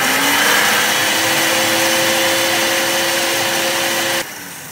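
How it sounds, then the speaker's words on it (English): A kitchen blender grinds peppers with a little water for a light vegetable sauce, its loud steady motor whine running evenly up close before cutting off abruptly near the end. "So I will be blending my scent pepper."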